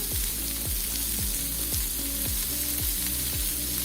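Tomatoes with salt sautéing in a pan, a continuous sizzle with a regular series of low thumps and scrapes from stirring, close and steady, with no voices.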